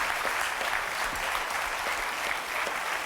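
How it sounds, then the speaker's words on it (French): A French TV game show studio audience applauds steadily, loud and continuous for several seconds, with no voices over it. "je voudrais qu'on applaudisse très très fort Christopher"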